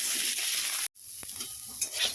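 Brinjal sizzling as it fries in a pan with a little turmeric, stirred with scraping strokes through a steady hiss, with a brief cut to silence partway through.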